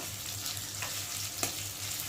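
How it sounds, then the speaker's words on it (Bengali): Garlic frying with onion in a pan makes a steady close sizzle, with a couple of brief scrapes from stirring. "রসুনটা দিয়েছি, দিয়ে একটু ভালো করে ভেজে নেব"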